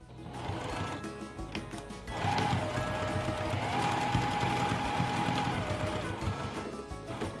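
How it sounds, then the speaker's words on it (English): A sewing machine stitches around the edge of fabric, a close and steady mechanical whir that starts, briefly pauses and then runs continuously. "take this to our sewing machine, and we're going to sew all the way around"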